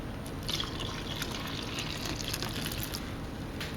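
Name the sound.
water poured into a bowl of rye sourdough ingredients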